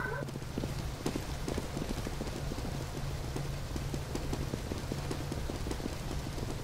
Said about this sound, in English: Hearing footsteps like a motherfucker.